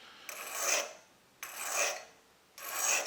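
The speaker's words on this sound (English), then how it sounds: "oil on the stone, and we'll just kind of stone that. This just smooths everything out." An oiled sharpening stone rubs over a firearm extractor to smooth off burrs, giving three separate soft rasping strokes, each swelling and then fading, quiet and close with no voices.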